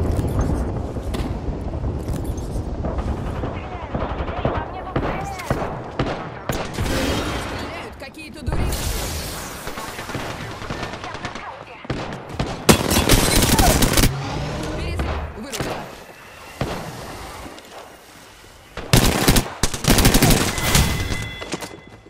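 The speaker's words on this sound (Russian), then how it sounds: "В меня стреляют!" Rapid video-game gunfire crackles loud and close in repeated fusillades and machine-gun bursts across the whole stretch, with booms and brief gaps between volleys, while a player talks over the shooting.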